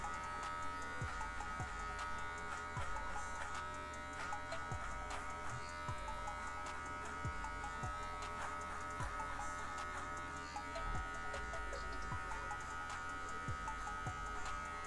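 Electric hair clipper fitted with a 1.5 guard trimming hair while smoothing a razor part, a steady close buzzing motor with short repeated strokes throughout.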